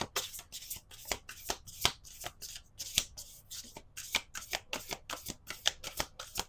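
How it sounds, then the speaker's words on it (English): Tarot cards are shuffled over and over, a crisp, rapid riffling repeated in quick bursts at close range with no talking. "These cards are easy to shuffle"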